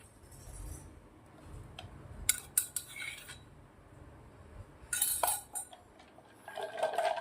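A spoon clinks and scrapes against a vessel while masala lassi is stirred, producing sharp metallic chinks in short bursts over a low background rumble, with no talking.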